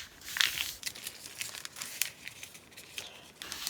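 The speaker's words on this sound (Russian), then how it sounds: "Получившуюся косыночку я складываю в несколько раз" A newspaper sheet is folded several times, giving close crinkling and rustling paper sounds in quick uneven bursts, with no voices.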